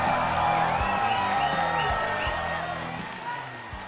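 A comedy-show audience cheers and claps for a team, with loud whooping and applause that swell at first and then slowly fade, mixed with background music.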